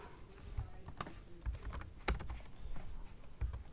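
A command is typed on a computer keyboard at a terminal: a run of separate key clicks, close and crisp, with a few sharper strikes and short pauses between them.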